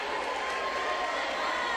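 A high school basketball crowd roars after a dunk, a loud, dense, sustained wave of cheering filling the gym.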